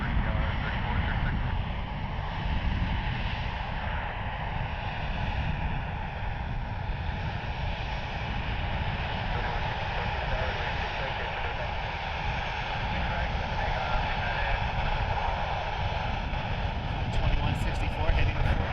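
Airliner jet engines roar steadily at Cleveland Hopkins airport, a constant loud broadband rumble and whine that holds throughout with a slight swell near the end, while a voice talks over it.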